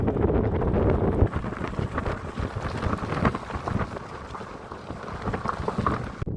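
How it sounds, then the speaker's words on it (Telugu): Strong, dusty desert wind in Qatar roaring and buffeting steadily across the microphone, a dense continuous rush that eases slightly after the first second. "పెద్ద దుమ్ము గాలితో పాటు దుమ్ము వచ్చేస్తుంది కదా"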